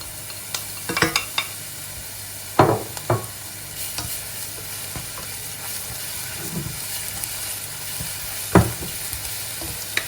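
Garlic fries in a pan for pad thai under a continuous close sizzle, punctuated by a handful of sharp stirring scrapes and clatters at uneven intervals, with no one speaking.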